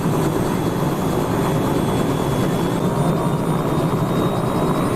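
A helicopter's engine and rotors drone loudly and steadily, close by on a helipad, with no voices over the constant whirring roar.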